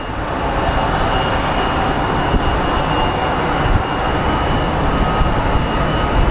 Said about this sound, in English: American 2865 coming in from LAX with an A321-200 series